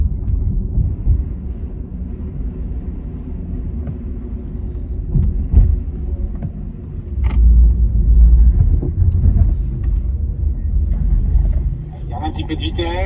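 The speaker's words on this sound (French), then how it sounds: "notre petit slalom en Taycan est terminé, c'était assez fun" A Porsche Taycan electric car running a slalom, heard as a steady low rumble of tyres and road noise with swelling surges as it weaves, plus faint wind buffeting throughout.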